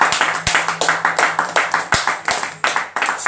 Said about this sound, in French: Give a big acclamation